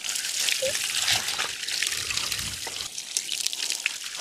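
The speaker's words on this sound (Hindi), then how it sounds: "तुम्हें गाड़ी में पानी मारी है ना लक्ष्मी?" Water sprayed onto a car during a wash, a steady broad hiss of spray and splashing running throughout, fairly close, with faint talk underneath.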